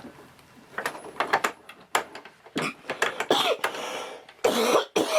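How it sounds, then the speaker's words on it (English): Harsh coughing and throat clearing from a man working at a bench making bullet jacket dies, several close, irregular bursts, some clustered together, with faint mechanical clicks between them. "I apologize for my coughing"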